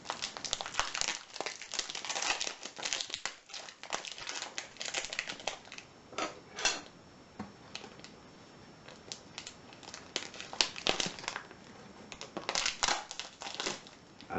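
A cardboard care package holding a t-shirt is cut and torn open up close, with continuous crinkling, scraping and crunching of tape and packaging that rises and falls over several seconds, fairly quiet with no talk.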